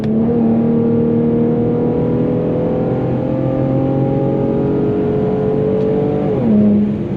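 An Infiniti G37 with a loud aftermarket exhaust pulls hard at night, its engine note rising steadily through the revs for several seconds before a brief shift and renewed climb, close and loud with no talking.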